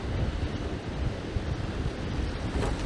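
Blustery wind buffets the microphone over rough surf breaking along a seafront shore, a dense, continuous roar with no voices.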